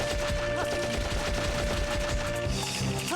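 A gun in the PlayStation 2 video game Dark Cloud fires dense, rapid repeated shots that continue for several seconds, loud and continuous under in-game music.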